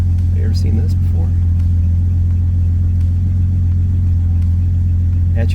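Datsun 280ZX Turbo engine idling low and steady, a close, continuous droning rumble with faint higher clicks, no speech over it.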